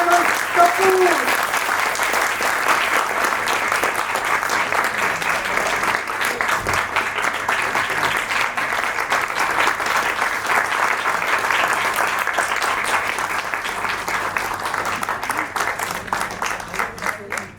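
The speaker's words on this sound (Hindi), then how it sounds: "प्लीज कृपया करके उनके लिए एक बार जोरदार ताली से उनका स्वागत कीजिए।" A theatre audience at a Delhi acting institute's stage play gives long, loud, sustained applause that holds steady for many seconds before slowly easing off.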